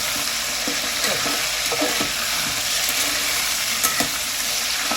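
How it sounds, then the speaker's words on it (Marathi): Chicken for biryani fries loudly in onion oil in a pan with a constant dense sizzle, while a utensil scrapes and stirs through it in irregular strokes. "आता हे आपलं चिकन चांगलं फ्राय करून घ्यायचं."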